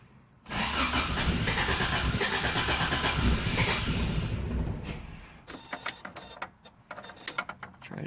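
A Toyota AE86 engine cranks loudly with a continuous starter whir after its fuel system refresh for about four seconds, then stops, followed by scattered clicks and knocks.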